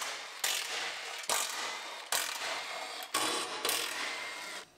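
Bolts come off a bumper bracket on a damaged 2019 GMC Sierra Denali pickup. Five sharp, separate ratcheting bursts from a tool each run under a second and fade into short quiet gaps.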